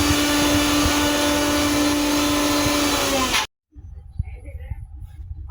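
An electric blender whirring loudly and steadily on a beef burger kabla mixture, a dense droning motor that cuts off abruptly, followed by quieter handling clatter and a voice.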